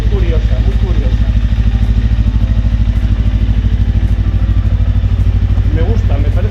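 A 2025 Macbor Rockster 410 parallel-twin motorcycle, around 400 cc with two exhausts, idles up close with a loud, steady, rapid throbbing pulse that holds an even rhythm throughout.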